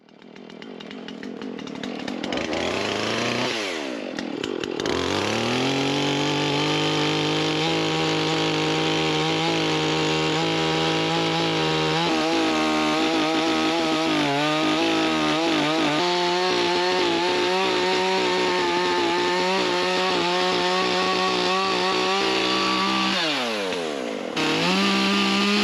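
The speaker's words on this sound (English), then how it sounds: "I have my Makita EA5600 FRGG chainsaw" A Makita EA5600 chainsaw revs up loudly and cuts steadily through a leaning tree for a long stretch, its engine pitch dipping under load before winding down.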